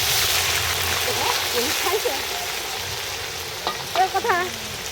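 Ginger paste frying in a pot for khichuri at an outdoor neighbourhood picnic: a broad steady sizzle with faint stirring, while voices and other people's chatter rise over it.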